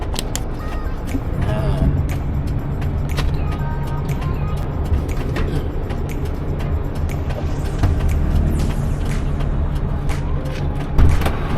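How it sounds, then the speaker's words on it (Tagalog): Dense road traffic rumbles continuously as many vehicles pass close by, with clicks and rattles scattered through the steady engine noise and a voice talking over it. "Nakita mo, dami sasakyan guys, oh."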